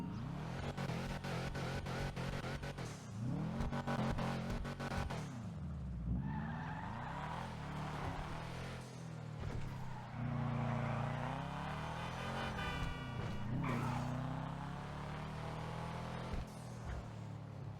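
A Karin Boor car in GTA Online revs and accelerates hard, its deep engine note climbing and falling through gear changes, with tire squeals and skids along the way, close and loud with no talking.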